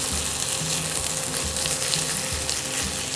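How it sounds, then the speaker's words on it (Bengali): Onion fries in a pan for a Bengali rohu fish dish, a dense continuous sizzle with faint stirring, close and steady throughout. "পেঁয়াজটা ভালো হালকা বাদামি করে ভাজতে হবে, একটু সফট করে।"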